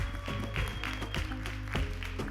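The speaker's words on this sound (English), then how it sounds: "Give them a huge round of applause, everybody." Audience applause at the close of a World Esports Summit panel on referees and esports integrity, a steady wash of clapping from a conference crowd that carries on over sustained music.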